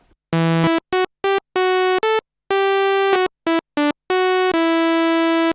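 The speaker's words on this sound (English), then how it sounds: "Let's take a dual saw wave," Bright buzzy notes from a King Korg Neo synthesizer on a dual sawtooth oscillator, in short and long bursts with silent gaps between, a raw, harmonically rich tone.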